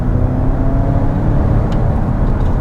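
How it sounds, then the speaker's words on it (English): A 2021 Ford Mustang Mach-E GT electric performance car accelerates in Engage mode, giving a steady, loud, low, dense drive rumble with road and wind noise that holds without a break and carries no talk. "So you see it has a nice, deep, throaty sound there"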